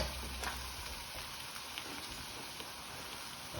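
Chicken with pineapple and ginger simmers quietly in a pan, giving a faint, even sizzle with a few tiny pops.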